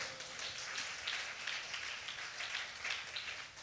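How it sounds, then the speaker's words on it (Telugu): An audience clapping hands at a Telugu Christian preaching meeting, a steady, fairly faint patter of many hands that holds evenly for a few seconds, with no voices. "కొట్టు చప్పట్లు."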